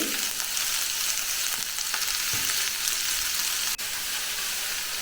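Ingredients sauté in a hot pan with curry leaves, a loud, hissing fry that stays steady throughout, with a few faint stirring scrapes and a single brief click near the end.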